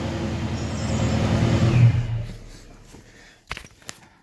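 A 2012–2014 Dodge Charger starts up close by. The engine swells into a loud roar, then settles and fades, and a few sharp clicks or knocks follow.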